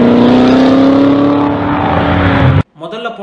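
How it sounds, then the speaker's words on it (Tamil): A loud, rough V8 car engine roars close by, its throaty, rough drone sliding slightly in pitch as the car passes, then cuts off abruptly. "ஆனா ரெண்டாவது போன காரோட சவுண்ட கவனிச்சா அது ஒரு மாதிரி கரடு முரடா இருக்கும்."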